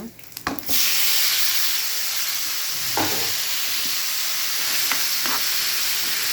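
Bottle gourd, added to green chillies already roasting, sizzles and fries steadily in a pan, a loud continuous hiss broken by a few scraping stirs of a spoon, with a burst of clatter at the start.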